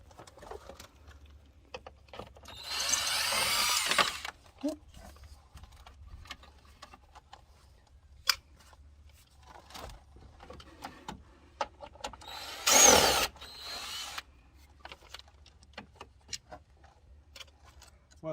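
A power tool zips out the bolts on a Jeep JL fog light cover in two short buzzing bursts, several seconds apart, close and fairly loud against a quiet background of small clicks and handling noises.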